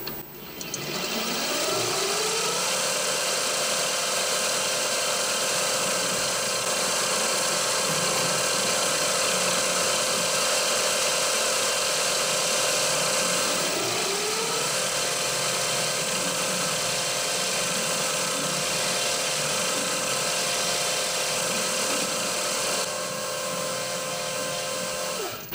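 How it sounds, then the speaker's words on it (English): Small drill boring closely spaced clearance holes in brass for 8BA countersunk screws, a steady high-pitched whine running the whole time with a couple of brief pitch swoops as the bit bites. "I'm going to be drilling these holes a clearance size for an 8BA countersunk head screw."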